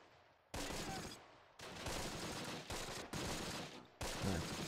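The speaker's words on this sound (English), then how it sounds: "let's just shoot at them" Gunfire in the World War II strategy game Close Combat, sustained bursts of rifle and machine-gun fire in several sharp-edged blocks separated by brief pauses, loud and continuous within each burst, with no one talking.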